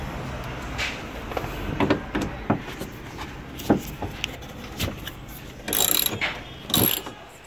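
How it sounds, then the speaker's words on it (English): A ratchet works a bolt loose from the evaporator core of a Toyota Coaster bus during A/C service, making clicking, grinding mechanical bursts that get louder in two strong passes near the end, close and without talk. "So one more bolt to pull and the evaporator core is down."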